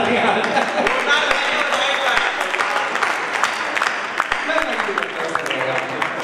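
A hall audience at Maharaja Aggarsain Bhawan breaks into steady applause, a loud, dense mass of clapping sustained throughout, with a few sharper individual claps standing out and faint voices beneath.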